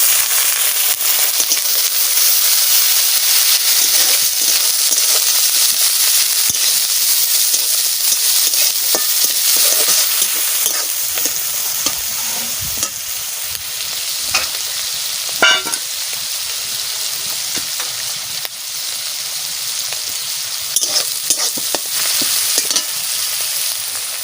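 Small shrimp fry loudly in a pan for a beet and cabbage dish, a dense, steady close-up sizzle with occasional crackles and spatula scrapes.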